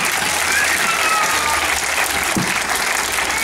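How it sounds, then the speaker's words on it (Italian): Warm applause from a crowd at an end-of-summer children's party, a dense, steady wash of clapping that carries on throughout at close range, with a faint voice underneath. "Ancora un applauso"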